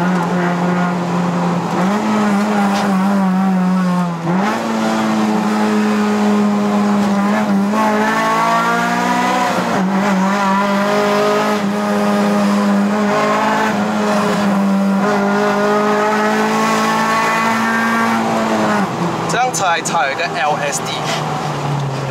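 A 2012 Honda Civic FD2 with a K24A engine and six-speed manual gearbox is driven hard through corners on the mountain road to Genting, Malaysia. Its engine drones loudly, revs rising and dropping between bends, with someone talking over it.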